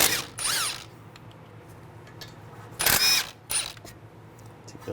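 A power tool with a 14mm socket spins out brake caliper bolts on a 2017-2022 Honda CR-V, with a few short whirring bursts separated by pauses, close and loud.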